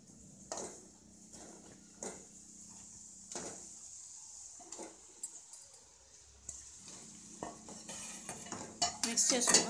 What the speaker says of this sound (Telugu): మనం ఇప్పుడు రైస్ యాడ్ చేద్దాము.